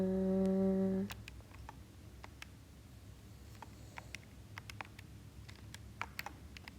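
Keys clatter on a computer keyboard as a math expression is entered, a steady run of light, close clicks after a brief tone fades at the start, with no talking.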